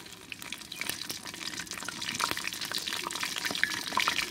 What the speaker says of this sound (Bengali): এবার আমি এর মধ্যে দারচিনি ও তেজপাতা দিয়ে দেব।